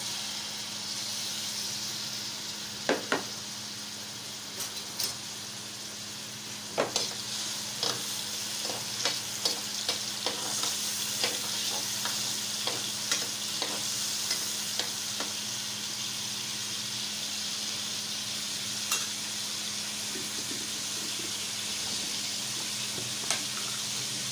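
Chopped tomatoes frying in about a cup of oil in a kadai: steady broadband sizzle throughout, with frequent sharp spoon clicks and scrapes of stirring against the pan, no talking.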